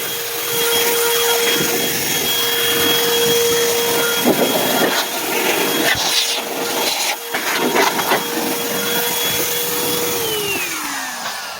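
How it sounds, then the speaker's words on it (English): A McKee's 37 mini car dryer blowing heated air into a VW Jetta interior roars loudly and continuously with a steady whine, its pitch holding for several seconds before winding down near the end. "we have the McKee's 37 mini car dryer"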